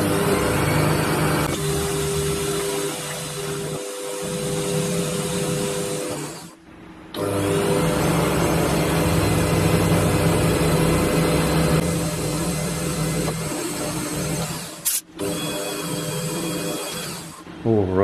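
A metal lathe machining the outside and boring the inside of a washer held on a mandrel, a steady loud mechanical whir and cutting noise with brief pauses, continuous through most of the stretch.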